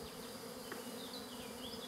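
A steady, soft drone of honey bees buzzing continuously at close range at the hive, with a few faint higher whines drifting over it.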